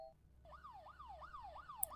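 A police siren in the Fear to Fathom horror video game, a faint, steady wailing sweep rising and falling about every 0.4 seconds, sounding distant, with no talk over it.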